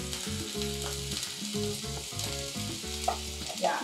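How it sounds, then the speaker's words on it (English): Garlic sizzles in a pan with broth, a steady close crackling hiss that runs throughout, with a few soft clinks near the end. "And there's that first sizzle."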